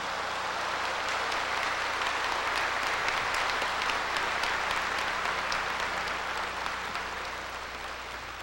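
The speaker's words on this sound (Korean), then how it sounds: "여러분들 힘찬 격려의 박수를 좀 보내주시기 바랍니다" Sustained, dense applause from a large audience at a Seoul Buddhist dharma assembly, encouraging foreign workers, North Korean defectors and disabled representatives; steady and loud throughout, easing slightly near the end, with no voices over it.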